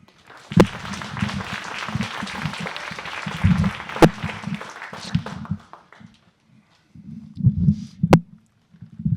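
Audience at a community book talk applauding to welcome a family, bursts of clapping that swell and fade in waves with a few sharp louder claps and quiet gaps between.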